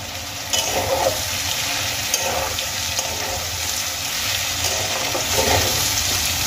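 Mixed vegetables with cabbage frying in a pan for a Bengali vegetarian dish, a steady close hiss of sizzling oil with occasional soft stirring scrapes, continuous and fairly loud.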